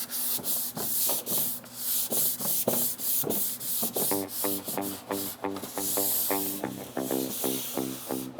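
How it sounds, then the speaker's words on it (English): A fine-grit sanding sponge scrubs over primer in short back-and-forth strokes, a close rhythmic rasping that quickens and gets denser partway through, with no talking. "I am going to go ahead and use a sanding sponge here. It's just a really fine grit"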